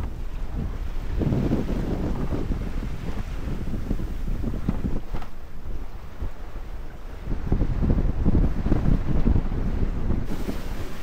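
A sailboat sails fast off Kefalonia, Greece, with steady gusting wind buffeting the microphone over the rush and slap of waves along the hull, growing louder toward the end.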